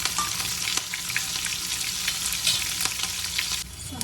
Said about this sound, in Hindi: आप डालेंगे इसमें थोड़ी सी हींग फ्लेवर के लिए, और ये डालेंगे इसमें हरी मिर्च।